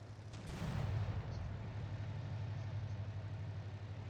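A French battleship's guns fire in the Victory at Sea Pacific naval game, one deep boom rolling into a sustained low rumble that stays loud for several seconds.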